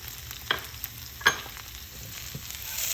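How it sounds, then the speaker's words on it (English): Butter, grits and cheese get stirred together in a pot with a soft, low sizzle underneath, while a spoon lands a few faint clinks and scrapes against the side. "Mix the butter, grits, and cheese."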